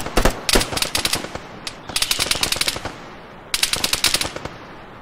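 Machine gun fire in the Arma 3 combat game rattles out in rapid, loud automatic bursts, three separate strings of shots with short gaps between, close and sharp, no voices.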